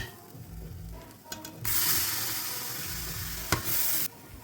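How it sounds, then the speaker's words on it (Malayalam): Ground tomato paste hitting hot oil with kabsa masala for chicken kabsa, bursting into a loud continuous sizzle that holds for a couple of seconds, with a few stirring scrapes before it cuts off sharply. "നമ്മൾ അരച്ച് വെച്ച തക്കാളി പേസ്റ്റ് അല്ലെങ്കിൽ മിക്സ് നമുക്ക് ഇട്ട് കൊടുക്കാവേ."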